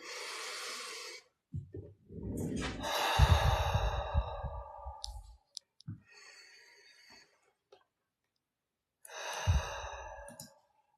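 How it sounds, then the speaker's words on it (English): Deep belly breaths are drawn in and let out close to the microphone during a guided session: long airy inhales and heavy, sighing exhales, separated by quiet pauses. "Go ahead and take one more really big deep breath"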